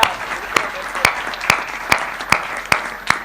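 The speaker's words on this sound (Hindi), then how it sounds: "आपने तालियां बजा दी हैं" At a Hindi comic poetry gathering, an audience applauds, with sharp, evenly spaced claps landing in a steady beat about twice a second over a softer wash of crowd noise.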